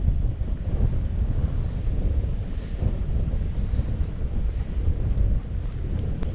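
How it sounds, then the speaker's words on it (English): Wind blows hard across a lakeside campground, a steady, close, low buffeting rumble that gusts continuously against the microphone with no voices. "It's much windier on this side"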